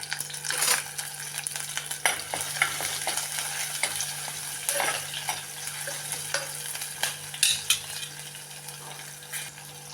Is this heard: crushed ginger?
yes